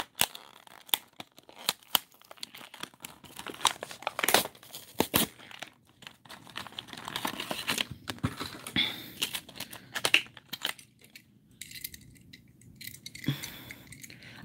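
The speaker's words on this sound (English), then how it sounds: "And of course, it has tape. I'm going to have to open it from the bottom." Tape being cut and torn off the bottom of a cardboard shipping box, with scattered scratches, crinkles and rips, some sharp snaps, close and fairly quiet.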